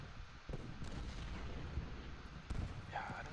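Distant artillery fire in the Civil War strategy game Ultimate General: Gettysburg, a steady rumbling battle bed with dull booming reports around the half-second mark and again near two and a half seconds, quiet overall, no talk.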